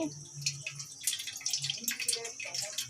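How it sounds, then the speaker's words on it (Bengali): Water running from a kitchen tap for making tea, a faint, uneven trickle and splashing with some clinks, heard close by in a home kitchen. "এই দেখো চায়ের জল নিচ্ছি"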